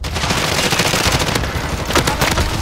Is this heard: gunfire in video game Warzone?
yes